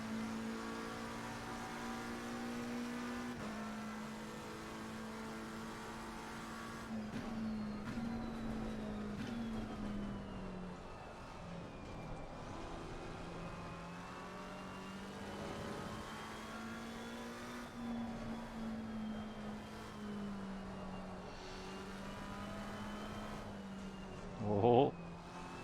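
Turbocharged GT race car engine in Assetto Corsa Competizione, droning steadily at high revs with pitch rising and falling through shifts and corners, loud and continuous, with voices talking over it.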